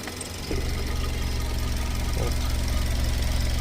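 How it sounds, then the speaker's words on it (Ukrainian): A 2007 Suzuki Swift's 1.5 litre petrol engine idles steadily with a low, even hum and slight knocking rhythm, heard from inside the cabin. "Давайте послухаємо з салону, як працює двигун."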